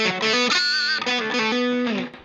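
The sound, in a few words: guitar through Boss distortion pedal at reduced level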